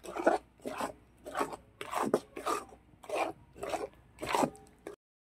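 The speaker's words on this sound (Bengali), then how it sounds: "তালটাকে নাড়াচাড়া করে ফুটিয়ে নেব, একটুও জল দেব না।" Palm fruit pulp with fennel seeds and salt is stirred in a pan without water, giving about eight rhythmic scraping and rubbing strokes, close and fairly soft, each a short rasp.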